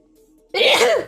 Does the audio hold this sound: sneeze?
yes